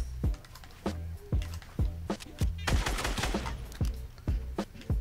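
Assault rifle fire in Fortnite: a steady series of sharp, evenly spaced gunshots with a denser burst in the middle, close and punchy, with no talking.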